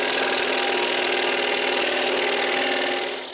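Scroll saw slicing through a piece of maple, a steady close buzzing rasp that holds evenly for about three seconds before easing off at the end.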